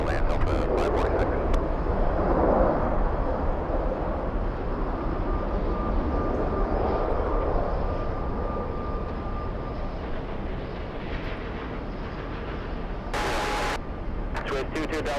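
Jet airliner on final approach to runway 13 left at JFK airport, a steady broad roar that swells and then eases over the whole span, with radio tower chatter faintly beneath.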